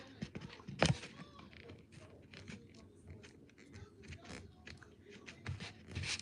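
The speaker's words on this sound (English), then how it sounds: "Watch me try to cut this bagel." A knife saws through a hard bagel with crunchy, scraping cuts and one sharp crack near the start, followed by irregular gritty crunches, close and moderately loud.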